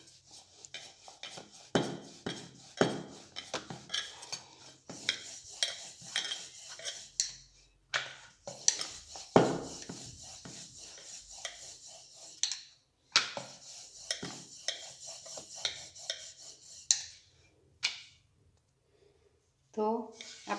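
A rolling pin rolls out laccha paratha dough on a board with soft repeated knocks and scraping strokes in an uneven rhythm, fairly close, while someone talks over it.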